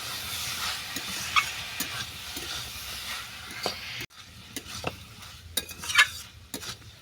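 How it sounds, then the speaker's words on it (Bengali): Bamboo shoot curry and fried potatoes are stir-fried in a pan, with steady sizzling and hiss under repeated scraping strokes of a spatula, close and continuous with a brief break midway. "এবার এটাকে আরও পাঁচ মিনিট ধরে আমি ভালো করে কষে নেব"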